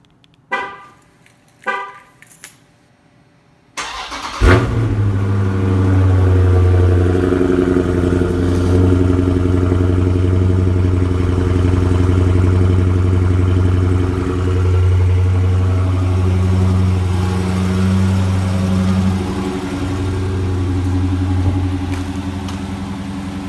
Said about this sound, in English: And I'm gonna do a little cold start.